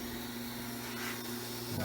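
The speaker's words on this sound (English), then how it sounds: "when I turn the fuel pump on that there's still no aeration" Walbro 400 liter per hour high-flow fuel pump on a Pro-M Racing hanger for a 1986-1997 Ford Mustang, running as a steady close-up electric whine and hum that holds constant for the whole stretch.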